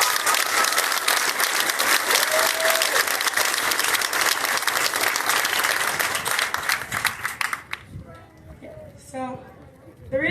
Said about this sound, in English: So I think you guys deserve a round of applause for that.